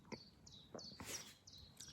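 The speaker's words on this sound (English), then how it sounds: "If you listen closely, you can hear the birds around me." Outdoor birdsong in nature, several short bright chirps repeating at a quick irregular rhythm, fairly faint and alone against a quiet background.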